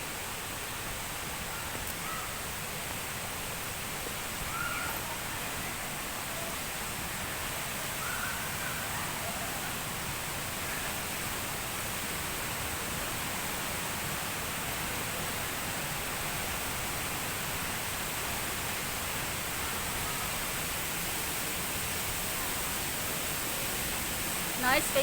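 Mandayao Waterfalls in La Castellana, Negros, gives off a steady, even rush of falling water, a constant broadband roar heard from nearby that stays unchanged throughout.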